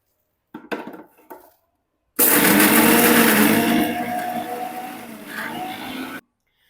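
Mixer grinder whirring loudly as it grinds green chillies with salt for sabudana vada, a steady roar lasting about four seconds after a few brief clunks and rattles, then cutting off abruptly.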